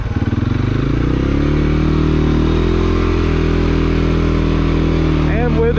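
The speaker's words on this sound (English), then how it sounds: "We'll see if we can crawl up it with the stock tires, four-wheel drive." A CFMOTO CFORCE 400 ATV in four-wheel drive on stock tires crawls up a steep hill, its engine chugging loud and close at a steady low pulse. A voice speaks at the end.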